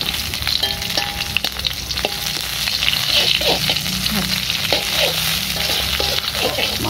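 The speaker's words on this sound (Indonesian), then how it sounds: "ini bawang ya harus digoreng dulu biar nggak terlalu bau bawang mentahnya ya" Garlic, lemongrass and bay leaves fry in hot oil with a steady, close sizzle and crackle, broken by occasional clinks of a utensil against the pan.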